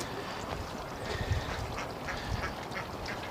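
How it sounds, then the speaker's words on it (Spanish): Ducks quack on a farm in scattered, overlapping calls against a dense, noisy outdoor background, at moderate loudness with no clear separation between birds. "Este es mi patos"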